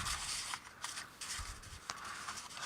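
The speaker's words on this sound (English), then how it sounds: "We'll shuffle them up a little bit." Racing game cards are shuffled by hand close up in quick, soft, papery riffles and rubs, repeating in short bursts, quiet with no talking.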